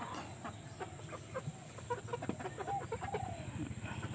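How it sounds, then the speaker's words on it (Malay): Backyard chickens clucking, several short irregular clucks and calls from birds close by, over a steady low background hum with no talking. "Update ayam hak kita beli hari tu."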